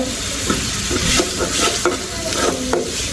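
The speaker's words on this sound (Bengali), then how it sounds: "এখন দিব আদা রসুন বাটা এই যে আদা রসুন বাটা" Ginger garlic paste and cumin paste fry in a pan with a steady sizzle while a spoon scrapes and stirs in repeated sharp strokes, close and fairly loud, no speech.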